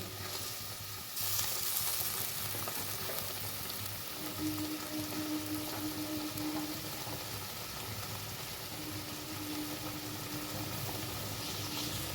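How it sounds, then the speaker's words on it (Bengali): Green chili and poppy seed paste fries in a pan with a soft, continuous sizzle and faint bubbling that holds steady at a fairly low level throughout. "এবার এই কাঁচা লঙ্কার পোস্তটা আমি একটু কষিয়ে নেব।"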